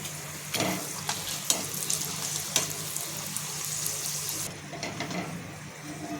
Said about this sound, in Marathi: स्टार फूल हे सुद्धा आपल्याला तळून घ्यायचे